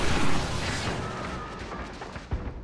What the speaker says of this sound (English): if I fire the rocket near the enemy, it goes straight past them